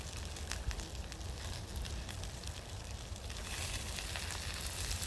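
Garlic, onions and mushrooms sizzle in a pan around a steak during an outdoor bushcraft cook, a steady close frying hiss with popping crackles that brightens toward the end.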